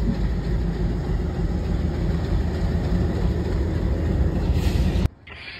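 A train rumbles steadily along a railway track in the city near Mangalore, a loud, continuous low roar and clatter heard from a nearby road, cutting off abruptly near the end.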